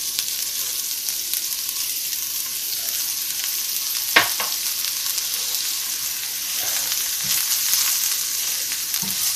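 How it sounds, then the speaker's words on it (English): Onions and mushrooms fry in hot oil with a steady, close sizzle, broken by a couple of stirring clatters as a utensil moves through the pan. "I'm going to put the onion in."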